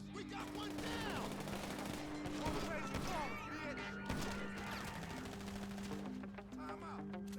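Rapid video-game gunfire from a gang robbery mission with interiors, disguises and CCTV, bursts of shots running almost continuously at steady loudness under a constant low hum, with people talking over it.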